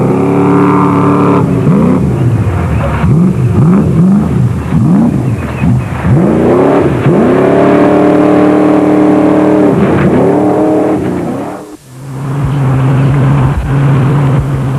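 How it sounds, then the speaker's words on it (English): A Jeep Cherokee tears around an off-road rally course, its engine loud and close, revving up and down through repeated rising gear pulls, then briefly cutting out before settling into a steady drone. "the Jeep Cherokee duo aptly attacked the course with enthusiasm"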